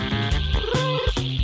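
A cartoon cat meows in a stretched, tonal voice over a bright backing of music and sound effects, the cry rising and falling across the short stretch.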